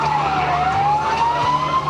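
A Boston fire engine responds to a building fire with its wailing siren rising and falling steadily over a constant engine and road rumble, loud and close, with no talk.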